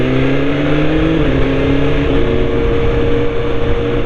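A 2021 BMW motorcycle, a £30,000 machine, hums steadily at close range with a smooth, continuous engine drone whose pitch dips slightly partway through, no talking over it.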